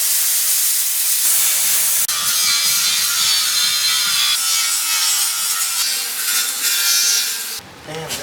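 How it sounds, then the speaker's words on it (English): An abrasive cutting tool grinds through the steel lip of a car subframe for a custom turbo LS3 Fiero build, a loud continuous harsh hiss and rasp that shifts in pitch and cuts out near the end. "cut the lip off here so we can get a little bit closer"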